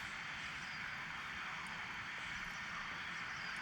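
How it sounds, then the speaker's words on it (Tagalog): A DJI Mini 4K drone flies in a park in Norwalk, California, giving a faint, steady whining buzz of small propellers that holds evenly throughout without any speech. "4K mini drone."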